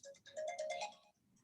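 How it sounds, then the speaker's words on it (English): A mobile phone ringtone goes off during a seminar, a short bright melodic chime phrase, clear and fairly close, with no talking over it. "and my phone is going off."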